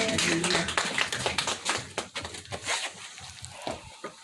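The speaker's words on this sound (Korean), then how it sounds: "박수 한번 쳐주세요." Church congregation clapping together, a busy patter of many hands that is loud at first and thins out toward the end, with faint voices underneath.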